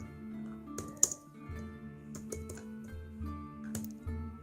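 A computer keyboard clicks at close range as a password is typed, irregular taps and keystrokes in short bursts with occasional louder hits, quiet and without talking.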